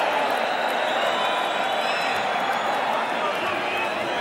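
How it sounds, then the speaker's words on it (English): A 1986 boxing arena crowd roars and applauds in a dense, loud, unbroken wash of noise, with a commentator's voice running over it. "the crowd is applauding the courage of Steve Zouski"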